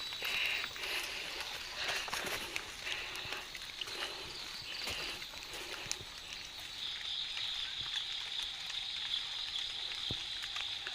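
Steady, soft rain patters before dawn at 5 a.m. in rural Thailand, a constant hiss with insects chirping faintly throughout and a few scattered drips.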